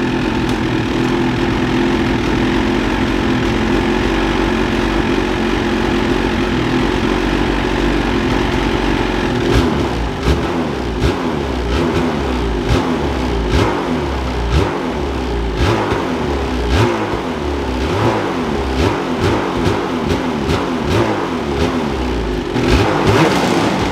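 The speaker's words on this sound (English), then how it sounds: "we're gonna go ahead and start it up and give you guys a stock sound" A stock Ski-Doo 850 snowmobile engine idles steadily, then revs in repeated sharp blips, the throttle rising and falling close by.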